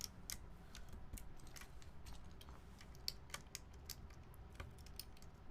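Quiet, close typing on a mechanical keyboard with clicky switches, with rapid irregular clicks and clacks in bursts and no talking.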